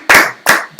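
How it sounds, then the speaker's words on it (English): Two sharp, loud hand claps about half a second apart, close and alone, with a third starting at the end. "I want to give y'all a hand clap."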